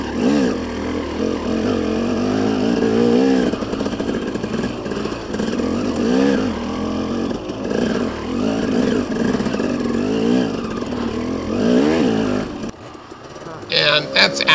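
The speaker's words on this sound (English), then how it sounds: "if you listen to my motor, you can hear me slip the clutch as I go up this slippery, steep hill with ruts and roots in it here" A dirt bike engine revs and bogs in wavering surges as the rider slips the clutch climbing a slippery, steep, rutted hill with roots, loud and close, with the rider talking over it.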